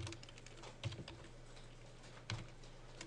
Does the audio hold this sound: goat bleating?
no